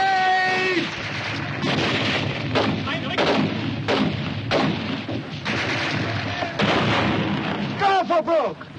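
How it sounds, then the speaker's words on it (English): Repeated heavy booms from grenade explosions and gunfire in a 1951 war film, thudding one after another amid shouted voices and battle noise, loud and close throughout. "Grenade!"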